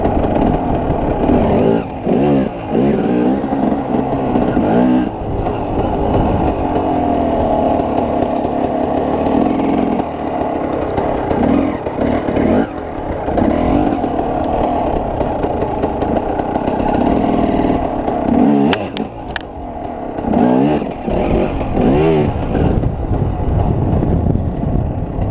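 A motorcycle engine runs steadily and up close through a slow-speed pivot turn practice session, with a low continuous drone and brief throttle swells and dips along the way.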